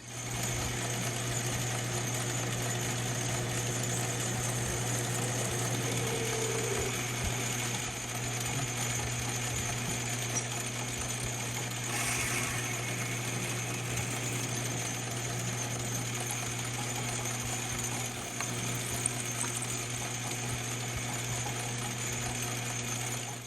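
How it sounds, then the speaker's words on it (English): A steady machine hum and whir runs continuously from a lathe center drilling metal, with a constant tonal drone and faint metallic chatter. "It's a lot more accurate drilling in the center of a lathe than the center of a mill."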